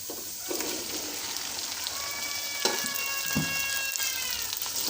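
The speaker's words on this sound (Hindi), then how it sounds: "भिंडी को हम अच्छी तरह से मिक्स करेंगे घी में। और भिंडी को हम 10 मिनट तक हल्की आंच पे फ्राई कर लेंगे।" Okra stirred into hot ghee in a pan for a masala dish, giving a steady close sizzle and crackle with a few louder stirring scrapes and faint tonal whines, no talking.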